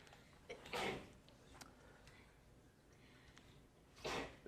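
A sneeze bursts out during a row reduction help session in a linear algebra classroom: two short, fairly loud bursts about three seconds apart over quiet room noise.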